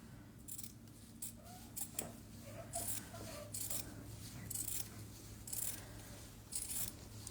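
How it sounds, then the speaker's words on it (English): Scissors snip through fabric again and again in a steady rhythm, quiet and close, over a low background hum. "I do not have very good fabric scissors."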